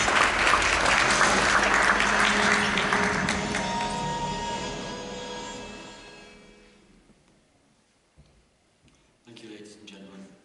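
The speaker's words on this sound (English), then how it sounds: "Round of applause, please." A conference audience claps loudly for a speaker from the University of Derby at a leadership session on emerging technologies, then the applause fades away to near silence before a voice begins talking.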